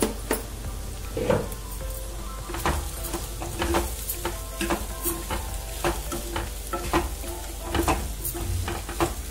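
Spices frying in oil for mutton fry, a constant sizzle punctuated by repeated sharp metallic scrapes of a spoon stirring against the pan, close and steady, with no speech.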